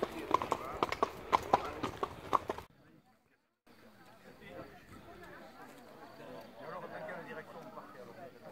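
Horses walk with a quick, rhythmic clip-clop of hooves, fairly loud for the first couple of seconds, then a brief near-silent gap before fainter outdoor crowd murmur and quiet movement on a pilgrimage ride.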